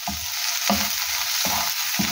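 Garlic fries in oil in a pan for an aloo mongray curry, with a steady sizzle broken by four firm, evenly spaced scraping strokes as it is stirred.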